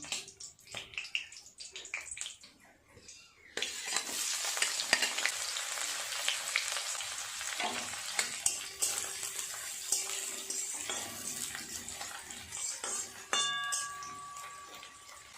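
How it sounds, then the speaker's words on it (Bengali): Sliced onions fry and are stirred in hot oil with dry red chilli, bay leaf and whole spices for a Bengali banana-flower (mochar ghonto) dish, giving a steady close sizzle broken by scraping stirs and clinks. "পেঁয়াজগুলো দিয়ে সুন্দর করে ভাজা করে নেব"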